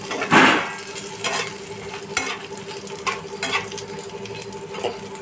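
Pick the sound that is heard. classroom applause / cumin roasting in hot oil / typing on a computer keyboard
cumin roasting in hot oil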